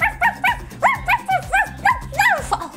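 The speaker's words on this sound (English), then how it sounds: "Barking at him will do nothing good." A dog barks rapidly and repeatedly, about a dozen sharp, close yips in a quick burst.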